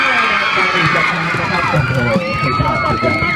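A large crowd screams and cheers loudly and continuously, high-pitched shrieks and whoops layered over a dense roar of voices.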